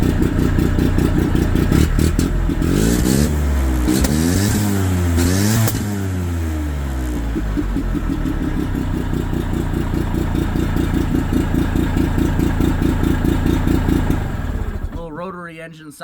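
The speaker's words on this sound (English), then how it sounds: "Love the Wankel idle." An OMC Johnson/Evinrude 45 snowmobile with a Wankel rotary engine, loud and close, revving briefly, then settling into a lumpy, rhythmic idle with a cam-like lope and mechanical clatter, before cutting off near the end.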